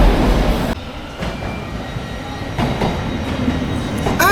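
A Thameslink Class 700 Siemens Desiro City train rumbles in steadily with broadband rail noise, faint clatter and a brief metallic squeal near the end, no voices.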